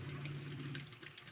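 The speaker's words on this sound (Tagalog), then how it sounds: "Yan, okay siya, nagkakarga na siya ng tubig." An automatic washing machine filling its drum with water, a steady rushing, hissing flow that runs continuously and evenly close by.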